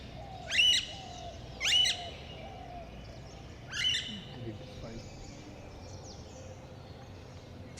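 Alexandrine parakeet, a large long-tailed green parrot, gives three loud, piercing squawks at moderate distance, two close together and a third after a pause, over steady outdoor background noise.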